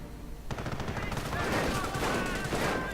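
Rapid gunfire and machine-gun bursts from a one-on-one real-time strategy battle, loud and continuous after a quiet half-second start, with layered crackling shots filling the whole clip.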